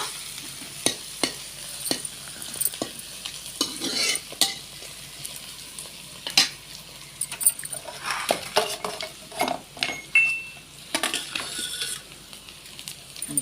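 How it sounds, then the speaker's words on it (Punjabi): Food, including eggplant, sizzles quietly in a pan while a spoon scrapes and clatters against the metal in irregular stirring strokes, close up. "ਇਹਨੂੰ ਵੀ ਚੰਗੀ ਤਰ੍ਹਾਂ ਭੁੰਨ ਲਓ ਜਿੰਨਾ ਚਿਰ ਗੁਲਾਬੀ ਨਾ ਰੰਗ ਹੋ ਜਾਵੇ"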